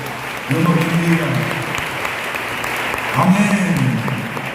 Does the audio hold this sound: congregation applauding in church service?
yes